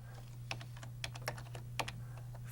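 Keys clatter on a computer keyboard during command entry in a Windows debugging session, a quick irregular run of close, crisp taps over a steady electrical hum.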